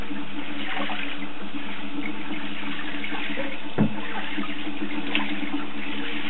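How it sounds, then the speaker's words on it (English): Water from a household shower runs steadily as a broad, even wash, with one brief knock partway through. "Shower time now."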